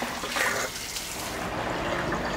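Running water rinses jellyfish being prepared for a cold dish, a steady hiss of splashing water close by with no voices.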